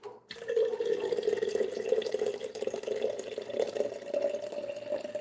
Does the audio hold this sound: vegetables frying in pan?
no